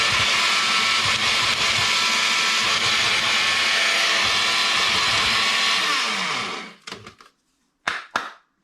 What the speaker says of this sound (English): So we'll blend it into a powder.